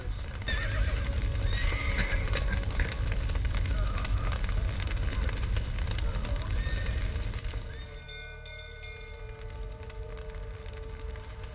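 Horses neigh and whinny inside a burning stable in The Witcher 3 video game, set over a loud, steady roar and crackle of fire that eases off near the end, with faint voices in the background.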